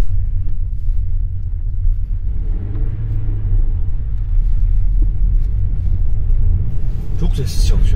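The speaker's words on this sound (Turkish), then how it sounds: "Çok sessiz çalışıyor araç." Steady low road rumble inside a 2018 Toyota Corolla 1.33 driving over a rough, broken road, the engine hum and suspension thuds continuous and fairly loud throughout.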